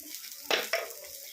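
Mustard seeds and turmeric hit hot oil for a drumstick-leaf curry, giving two short, sharp crackling bursts of sizzle over a faint, quiet background.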